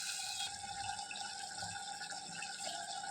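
Water poured into a cooking pot while making a Tamil chickpea dish, a steady continuous splashing and trickling rush that runs the whole time without any talk.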